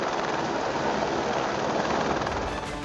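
A helicopter flies low over a house, its loud, dense rotor and engine roar steady and close throughout.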